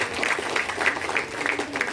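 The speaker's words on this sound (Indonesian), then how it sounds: "Tepuk tangan untuk kita semua" Steady crowd applause at a community meeting in a village hall, dense and continuous clapping at moderate distance with no talk.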